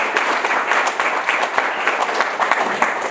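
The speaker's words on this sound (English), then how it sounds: "just another round of applause for Rhett, Megan, Chris, and Sue" A room full of audience members claps for a panel discussion at an Audubon and Mongabay event, a dense, steady applause that holds for about three seconds with no voices over it.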